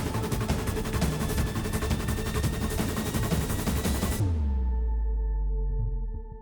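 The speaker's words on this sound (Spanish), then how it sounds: "Entonces, el silencio se rompió, estallaron disparos." Heavy gunfire during a police chase comes as a dense, sustained barrage of rapid overlapping shots that ends abruptly, leaving a low rumbling echo that fades out.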